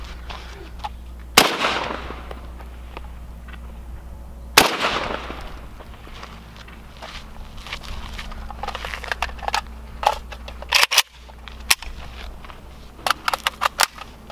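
Sharp gunshots from an M16 rifle fired at a bulletproof Lamborghini, two loud isolated cracks followed by a burst of several quicker shots and scattered reports near the end, with low background hum.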